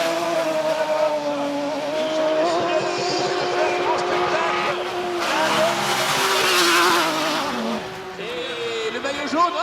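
Skoda race cars running on the Trophée Andros ice track in Andorra, engines revving and droning loudly with shifting pitch and tire noise, a commentator talking throughout.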